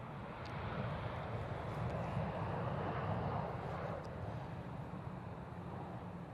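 A Ryanair airliner arriving at Manchester Airport, a faint-to-moderate steady engine rumble heard from a distance with a slight swell around the middle.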